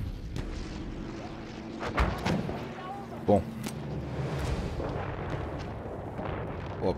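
Heavy booming explosions from aircraft bombing in the video game Battlefield 1 thud through a dense battle rumble, with a few sharp blasts standing out, while someone briefly speaks.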